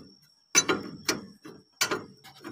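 Front stabilizer link nut on a Mitsubishi L300 being tightened, with several separate bursts of metallic ratcheting and clicking heard close by over a faint steady whine.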